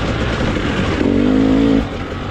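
A 2023 KTM 300XCW two-stroke dirt bike engine while riding off-road, a steady buzzing drone close by that rises into a sharper rev for about a second before dropping back.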